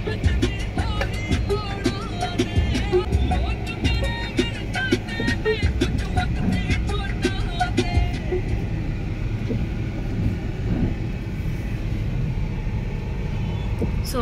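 Weekend road traffic near Bhandardara dam in the rainy season forms a steady, dense rumble of cars and heavier vehicles, with sharp passing bursts over the first half before settling into a broad, even wash.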